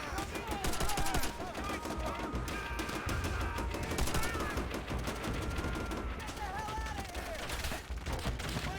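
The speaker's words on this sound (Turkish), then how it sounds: "Nereden sıkıyor? Oo makineli var makineli." Machine gun fire in the shooter game Call of Duty: World at War, dense rattling bursts of gunfire that carry on steadily, with players talking over the shooting.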